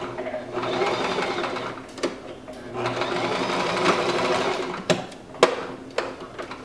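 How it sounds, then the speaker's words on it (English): A sewing machine stitches a pillow, running in a steady close whir forward and then briefly in reverse, with a few clicks and knocks as the stitching stops and starts. "I'm just going to do a few stitches and then back stitch or reverse stitch to lock it all into place."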